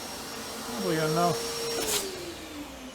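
A vacuum system on a woodworking CNC router with an automatic tool changer runs as a continuous mechanical whine and whoosh, while someone talks briefly over it.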